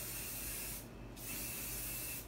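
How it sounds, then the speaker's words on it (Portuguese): Hairspray sprayed onto a bridal updo in two hissing bursts, the first long and steady, then a short pause before a second burst begins, close and fairly loud with no talking. "Colocar só um pinguinho de laque."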